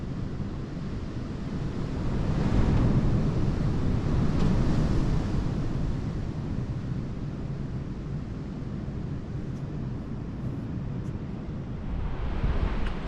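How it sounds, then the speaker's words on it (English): Strong wind blows with a constant roar and swells into louder gusts, buffeting the microphone on an exposed outdoor spot with no voices. "every now and again there's a gust that just sounds like everything's going to fly away"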